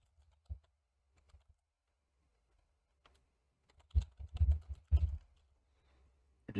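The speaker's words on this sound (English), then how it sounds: "Just type that in." Computer keyboard typing while entering a name in a BfBB modding tool, heard as a few sparse soft clicks early, then a denser burst of keystrokes near the end, close and fairly quiet.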